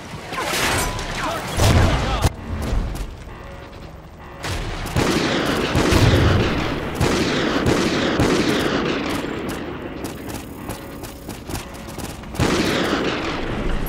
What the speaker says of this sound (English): Use the remote sniper to clear those RPGs.